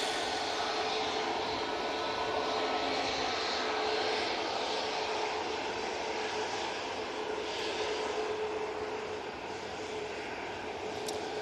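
A Ryanair Boeing 737 Max jet airliner at Manchester Airport, a broad steady engine roar with whining tones, loud and sustained throughout as if close by.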